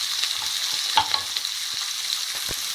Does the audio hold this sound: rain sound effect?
no